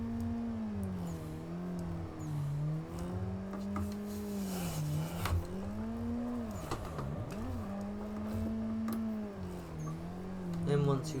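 A car drifting in Assetto Corsa, its engine holding a steady wavering drone that rises and dips with throttle changes, with brief tire scrub, continuous and fairly close.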